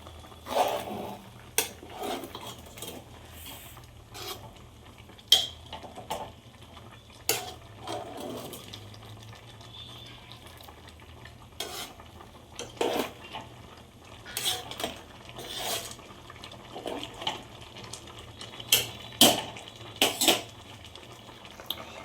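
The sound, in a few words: stirring caraway, cinnamon, cardamom and cloves in a pot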